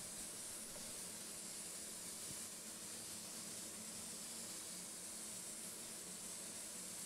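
A spray gun with a conventional air cap spraying a wet coat of paint onto a Land Rover Discovery 4, a steady, faint, airy hiss that runs unbroken throughout with no voices.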